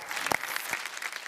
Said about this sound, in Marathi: दोघांसाठी एकदा जोरदार टाळ्या झाल्या पाहिजेत